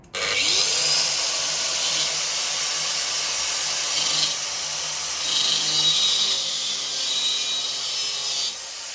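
A loud, continuous high-pitched whine of an angle grinder cutting a metal scooter handlebar, steady for several seconds with slight dips in pitch as it bites.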